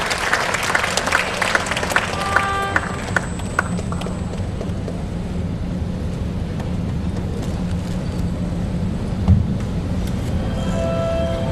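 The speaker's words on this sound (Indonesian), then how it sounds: "Berikan tepuk tangan yang meriah untuk Ramaditya" Audience applause welcomes Eko Ramaditya to the stage at a motivational talk at Menara 165, with dense clapping fading into steady crowd noise and low hum over about eleven seconds.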